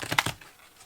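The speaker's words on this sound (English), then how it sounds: "I'm going to shuffle the cards in camera for you" Tarot cards riffle in a short, crisp flutter of a few quick papery snaps up close, then quickly fade to quiet.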